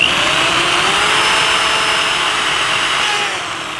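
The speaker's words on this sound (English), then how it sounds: "You want to drill one of those." A steady high-pitched power drill whine grinding continuously through a Camso Cobra snowmobile track, drilling stud holes, loud and close, easing off slightly near the end.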